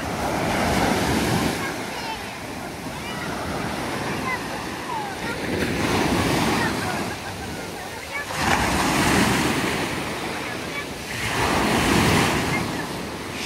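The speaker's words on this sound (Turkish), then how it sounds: "Pırıl pırıl, oldukça güzel, az dalgalı bir deniz var." Small sea waves wash onto a beach at Kuşadası in Aydın, Turkey, surging and receding in repeated swells, with wind buffeting the microphone and faint voices.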